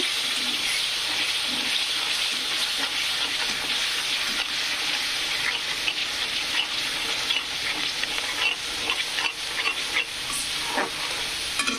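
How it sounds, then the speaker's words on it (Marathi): Spice masala for egg curry fries in a pan with a little water, a loud, dense, steady hiss and crackle up close, with occasional scrapes of stirring and no talk. "छानपैकी आपले मसाले फ्राय झाले तळले तर"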